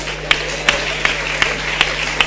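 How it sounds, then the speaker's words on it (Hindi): Steady audience applause at an award announcement with scattered sharper claps standing out at a regular pace over a constant low electrical hum. "जोरदार तालियों से इनका स्वागत करें।"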